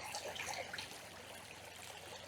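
A fresh mountain stream of water flowing down toward the sea in Quezon, a soft continuous trickling and babbling, faint and steady, with no voices.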